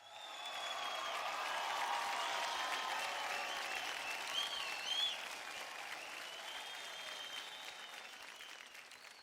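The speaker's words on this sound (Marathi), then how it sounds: "जोरदार टाळ्या" Loud, sustained applause from a studio audience on a Marathi TV dance competition show, a dense wash of clapping that swells and then eases slightly, with a few faint voices in it.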